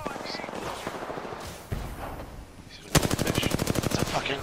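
Rapid automatic gunfire in a shooter video game: a steady run of rattling shots, then a louder, tighter burst of evenly spaced bursts near the end, with a voice talking over it.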